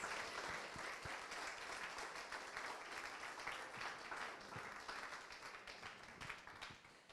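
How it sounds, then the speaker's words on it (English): A literary award audience gives steady, even applause for long-listed authors, a soft continuous patter of many hands that tapers slightly toward the end. "I think we should have a round of applause for the long listers."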